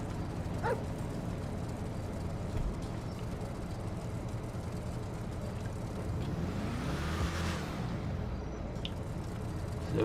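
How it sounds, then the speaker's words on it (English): A supercharged Gauntlet Hellfire muscle car, a Challenger-style model in GTA V, rumbles in a steady, continuous engine drone that stays fairly loud throughout, with a brief dog yip or two over it. "So we got the Gauntlet 4 sound. That's from that new supercharged Challenger, the Gauntlet Hellfire."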